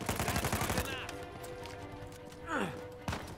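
Sniper fire in Uncharted 4 opens with a quick run of sharp, loud cracks. Sweeping whooshes and scattered impacts follow, with a final crack near the end.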